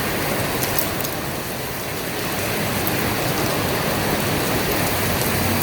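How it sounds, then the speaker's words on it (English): Steady rain falls hard and continuously around a 2018 BMW S1000RR with a newly fitted Luimoto custom seat, an even broadband hiss of drops on surfaces with no talk. "Definitely a rain day."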